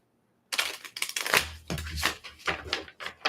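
A deck of oracle cards is shuffled up close in quick, crisp bursts of riffling and snapping, loud and busy for about three seconds after a moment of silence.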